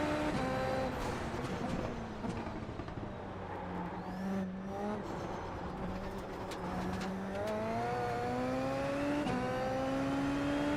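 Race car engine in the iRacing sim climbing a hill at Zandvoort with tires spinning, a loud, continuous engine drone whose pitch rises and falls across gear changes, with no talk over it.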